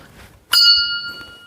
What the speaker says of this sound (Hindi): चलिए घंटी बजाते हैं